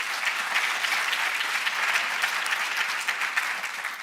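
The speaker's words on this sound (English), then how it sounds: "I think we need to give that a round of applause" Audience applause at the closing session of a national space conference, steady dense clapping from a large hall, fairly loud and continuous with no speech over it.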